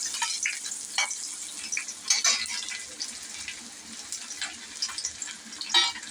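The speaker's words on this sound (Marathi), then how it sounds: "तेल आता गरम झालेलं आहे आणि हा मी अर्धा कांदा याच्यामध्ये टाकून घेते." Half an onion sizzles in hot oil in a pan for a clam curry, a soft crackling fry with intermittent louder spits and bursts, fairly quiet and without talk.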